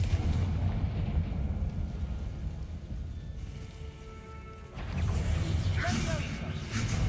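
Confringo blasting spell explosions in Hogwarts Legacy, a continuous rumbling roar of blasts and debris, dipping briefly midway then surging back loud, with a voice speaking over it.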